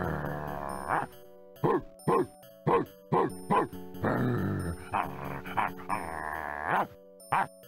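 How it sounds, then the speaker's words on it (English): Cartoon dog from the adventure game Flight of the Amazon Queen, giving a series of short, loud barks and growly yelps in an irregular rhythm, with a voice speaking between them over a faint background tone. "What a cute doggy."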